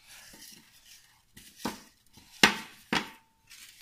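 Paper draw tickets for a prize draw being shaken and mixed in a container, giving several soft rustles followed by three sharper scraping clatters, close and fairly quiet with short pauses between.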